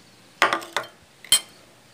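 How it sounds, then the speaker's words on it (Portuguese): Ground home-made seasonings, onion and yellow saffron go into a cooking pot for an egg sauce, giving three or four sharp, close metallic clinks spaced irregularly over a quiet background. "Vou colocar tudo nessa panela aqui,"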